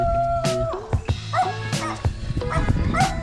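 A dog barks and yips several times in quick irregular bursts, close and loud, with whimpering tones between barks.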